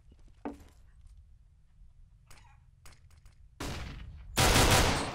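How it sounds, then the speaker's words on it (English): Gunfire in the shooter game CS:GO: a few sharp shots scattered early, then a dense, loud burst of rapid fire that swells toward the end over a low background hum. "There was no need to shoot in retaliation."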